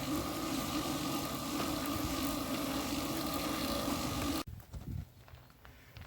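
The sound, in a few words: leak in a 1952 Ferguson TEA tractor tire tube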